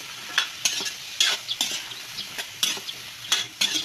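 Crab and mixed vegetables in coconut milk being stirred in a pot, a rhythmic series of about a dozen spoon scrapes and clinks over a soft bubbling simmer, close and unaccompanied by talk.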